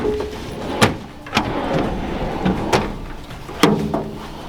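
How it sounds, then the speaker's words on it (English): Slide-out drawers in the back of a Toyota Land Cruiser 105 series camper rig are worked, giving several sharp knocks and sliding clunks spread across the moment, close and fairly loud with no talking. "you also got your slide out drawers"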